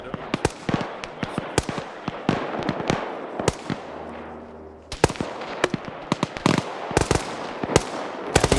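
Sharp, loud bangs and pops from a firefight in the game SCP, with a stun grenade blast among rapid irregular cracks and brief quieter gaps.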